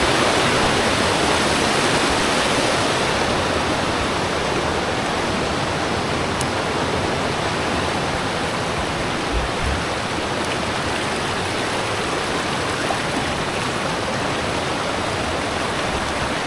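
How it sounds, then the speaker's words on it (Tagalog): Water running steadily in an outdoor spot in Mindoro, a loud, continuous wash of trickling flow that never pauses, with no voices over it. "Tingnan nyo, tumutulo rin dito sa part kabila."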